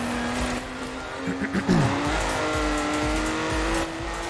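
A racing car in Forza Horizon 4 brakes hard into a turn, its tires squealing in a short rising screech over a steady engine drone that settles back to a constant hum.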